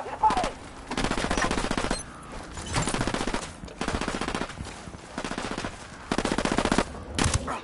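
Video game gunfire in Ghost Recon Wildlands: repeated bursts of rapid automatic fire, each lasting about a second, separated by short gaps, loud and close.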